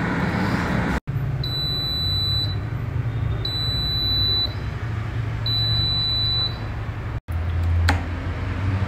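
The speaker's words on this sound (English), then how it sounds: "after the completion of this final 1 minute, you will get a beep sound, a long beep sound, which means it is done" Solara air fryer signalling the end of cooking with three loud, evenly spaced high-pitched beeps over a steady background hum, each beep lasting about a second.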